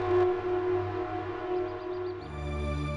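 Ambulance siren wailing steadily and loudly nearby, a sustained tonal howl with its pitch shifting toward the end.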